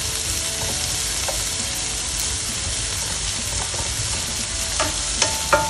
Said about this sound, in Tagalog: Ginisa po natin yung ginger.